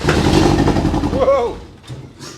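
An MG MGF sports car, unused for two years, starts up, its engine turning over and catching into a rough, loud rumble close by, with people talking over it.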